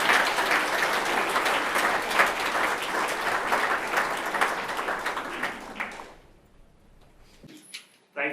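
Enthusiastic audience applause at a Jersey Chamber of Commerce event welcomes speaker Simon Boas, a dense steady clapping from a room full of people that tapers off into near silence before a brief clatter at the end.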